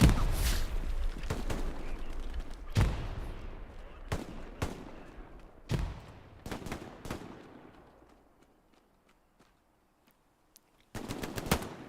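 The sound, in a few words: machine gun fire in video game Hell Let Loose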